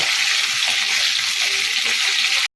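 Spiny gourd and potato fry in a pan over medium heat, a dense, even hiss of sizzling oil that carries on steadily and cuts off abruptly.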